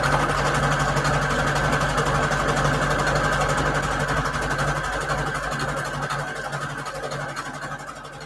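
A sewing machine stitching fabric onto an index card: a loud, steady mechanical whir close by, holding an even rhythm before easing slightly quieter toward the end, with no talking.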